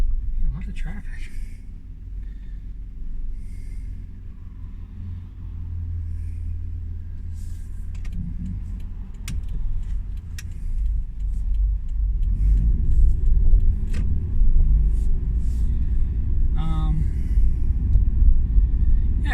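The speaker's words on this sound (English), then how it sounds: "A lot of traffic." Road traffic heard from inside a car on a morning commute, a steady low engine and road rumble that swells louder partway through, with passing vehicle noise outside.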